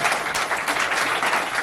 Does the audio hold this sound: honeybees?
no